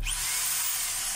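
A DeWalt D25032 rotary hammer drill running in hammer-drill mode, a steady high-pitched whine with a dense buzzing hammer rattle, loud and close, with no pauses and no voices.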